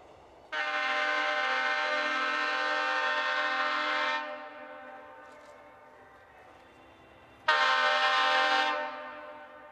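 A long, loud train horn blast from a Gyeongchun Line train between Seoul and Chuncheon holds for several seconds, fades into rumbling rail noise, then a second horn blast sounds.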